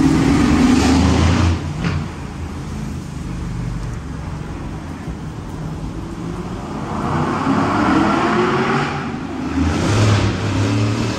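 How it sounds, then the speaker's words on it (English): A rebuilt Aston Martin drives through tunnels on a dangerous European mountain road, its engine roar swelling and fading in echoing waves with a steady road rumble underneath, no talk. "We're gonna lay off a bit so we can hear a bit of thunder through these tunnels."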